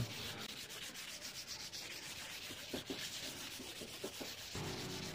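Steady rubbing scrape of number 400 sandpaper on wood, continuous strokes up close with no talking.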